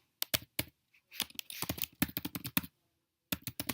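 Quick bursts of clicking keystrokes on a computer keyboard as a short note is typed into a spreadsheet, with uneven rhythm, brief pauses and a final flurry, close and clean.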